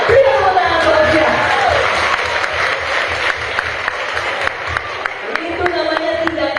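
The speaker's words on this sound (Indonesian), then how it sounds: "Beri tepuk tangan buat dia." A congregation at a Christmas revival service claps together, the applause rising quickly and then continuing as a loose, steady patter of individual claps with some crowd noise.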